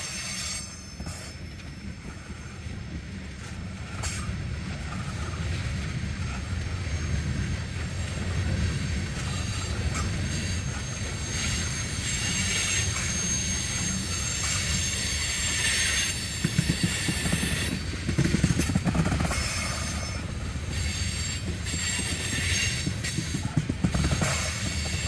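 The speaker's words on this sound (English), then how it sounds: "B657 is an eastbound loaded ethanol train from Chicago" A long loaded ethanol freight train rolls past steadily, with a continuous rumble, rattling cars and occasional high metallic wheel squeals, loud and close throughout.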